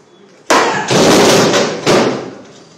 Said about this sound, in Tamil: 100 கிலோ கல் சுத்தியல் மூலம் உடைக்கப்பட்டது